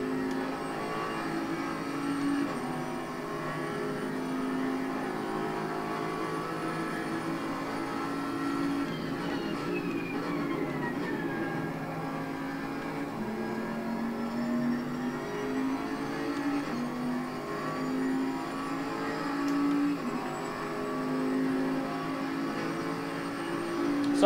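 At Monza in Assetto Corsa Competizione on PS5, racing car engines drone loudly and steadily, shifting pitch through the gears while another car closes in to overtake. There is no talking.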